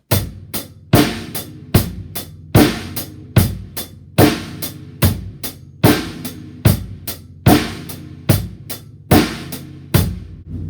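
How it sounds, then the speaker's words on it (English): A drum set plays a steady eighth-note rock beat, with crisp, evenly spaced hits and regular accented strikes repeating loudly and close for about ten seconds with no talking. "Also one of the most common rock beats out there."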